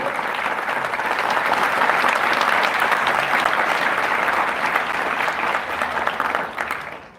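Loud, steady applause from an audience at a Paryushan Parva religious gathering in Malad, a dense wash of clapping that holds for about seven seconds before fading out at the end.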